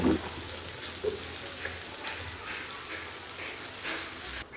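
Onions frying in a pan with garlic for Bengali beef kala bhuna, a steady soft crackling sizzle throughout with faint scattered pops, fairly quiet and close, no talking.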